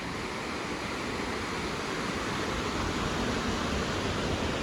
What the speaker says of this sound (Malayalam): ഇപ്പോൾ ഇങ്ങോട്ട് വന്നവർക്ക് വെള്ളം ഒഴുകി പോകണ കാണാം